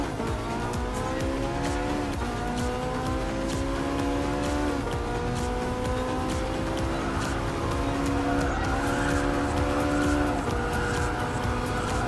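A race car in Gran Turismo Sport threading through a chicane, its engine whining and shifting pitch as it brakes and accelerates, with tires squealing through the corners, loud and continuous.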